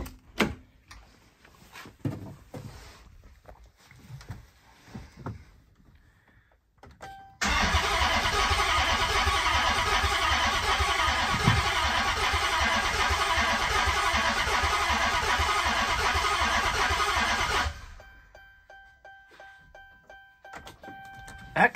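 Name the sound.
Dodge Charger engine cranking, trying to start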